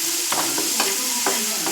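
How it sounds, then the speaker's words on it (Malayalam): Kerala-style vadukapuli lemon pickle (naranga achar) being stirred in a hot pan, a soft continuous sizzle broken by four evenly spaced scraping strokes of a spoon, close by with no voices. "നാരങ്ങ നന്നായി വാടുന്ന വരെ ഇളക്കിക്കൊണ്ടിരിക്കുക"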